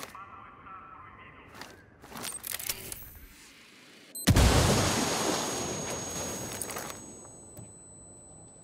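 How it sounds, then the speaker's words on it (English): A sudden loud explosion bursts out mid-clip after some quieter clicks and rumbles, then rolls into a long fading roar. "That explosion's got him suspicious."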